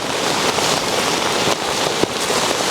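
Steady, dense rain patters on a surface close by, a continuous hiss that fills the whole stretch with no voices over it.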